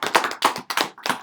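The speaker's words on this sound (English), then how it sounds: "Let's give Sophia a clap." Short burst of clapping from an audience at a Chairing of the Bard ceremony, a few quick rhythmic claps heard close and clear.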